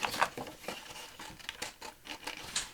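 Scissors snip through decorative card paper near a die-cut lace flower panel, giving a few quick crisp cuts and rustling crinkles, close and fairly quiet with no talking.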